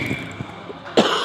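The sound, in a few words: cough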